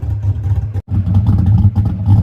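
A car fitted with a $13 aftermarket eBay muffler rumbles loud and close with a choppy, lopey cam idle and revs, the deep exhaust note broken by one brief dropout.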